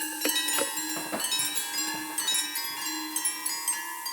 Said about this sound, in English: A half-dozen of his pocket watches set to chime in synchronicity, meant to echo the sounds of the valley.